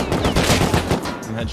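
Rapid gunfire in Rust, the multiplayer survival game, with several close, loud shots cracking in quick bursts during a firefight.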